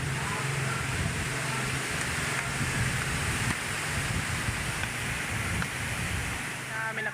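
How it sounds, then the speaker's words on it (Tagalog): Strong wind roars steadily and loudly throughout at a pigeon racing derby in Matnog, Sorsogon, a constant rushing noise with no pauses. "Sobrang lakas ng hangin, umulan na."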